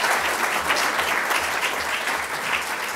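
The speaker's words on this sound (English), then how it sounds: "So I think big clap to all that lot." Steady applause from an audience at a film launch event, a dense wash of clapping that holds at an even level throughout.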